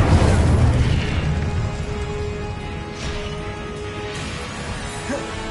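An Incendio fire spell in Hogwarts Legacy erupts in a loud booming burst that rolls into a crackling, fading roar, with a softer whoosh partway through.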